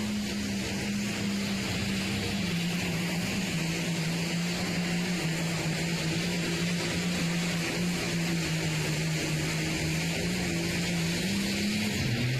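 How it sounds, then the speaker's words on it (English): A G-Force pulling tractor roars down the track at a county tractor pull, its engine a sustained, loud droning whine that holds steady for the whole run and rises slightly at the end. "Here comes Jared Gerlach on the G-Force."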